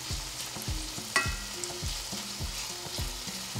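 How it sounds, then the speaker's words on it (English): Paprika sizzling and crackling in a hot pan, with soft rhythmic stirring scrapes and a light clink, close by. "So there's our sizzle"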